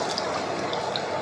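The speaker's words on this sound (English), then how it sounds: "Add a little bit of water." A little water poured into a wok while cooking Thai drunken noodles with krachai and young peppercorns, heard as a short, steady hiss of liquid hitting the hot pan, close and alone.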